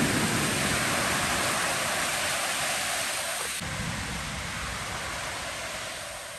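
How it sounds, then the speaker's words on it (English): Creek water rushing at a canyon outlet, a dense continuous roar of flowing water heard close and loud, steady throughout with a slight fade toward the end and no voices. "Just walking inside the canyon and then down to the creek outlet"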